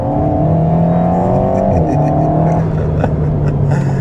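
A 2021 Alpine A110 sports car with a small turbocharged engine revs loud and close from inside the cabin, a steady droning pitch that climbs and dips, with light crackles toward the end.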